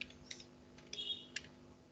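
Typing on a computer keyboard while entering title-bar text for an HTML web page, a few faint, quick keystroke clicks spaced irregularly in a quiet room.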